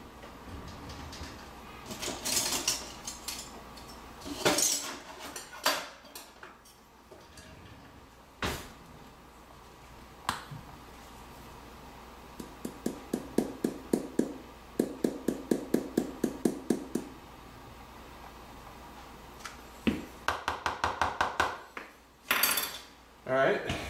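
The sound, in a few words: mixing dry ingredients and cinnamon in a bowl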